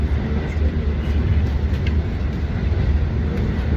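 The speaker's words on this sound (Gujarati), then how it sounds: "હું અત્યારે ટ્રેનમાં બેસી ગયો છું." Low rumbling drone from inside a moving train on Long Island, steady and fairly loud, with faint rattles and no one speaking.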